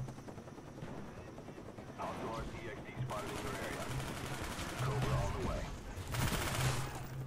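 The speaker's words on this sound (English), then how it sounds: "Get my sentry gun out." Sustained automatic fire from a deployed sentry gun in the PC shooter Call of Duty: Black Ops, dense rapid bursts building through the middle and end over game ambience, with some speech-like sound mixed in.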